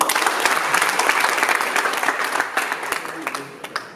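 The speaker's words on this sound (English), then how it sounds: "Clap for them." Classroom audience applauding, a dense steady burst of many hands clapping close by for the full length, tapering slightly toward the end.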